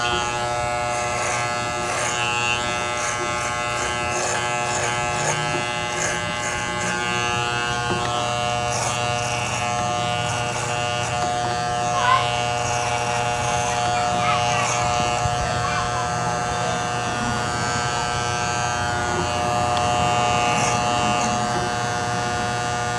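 An electric trimmer trims the neckline of a beard being shaped into mutton chops, giving a steady, close buzz that runs unbroken for the whole stretch with slight shifts in pitch as it moves over the hair.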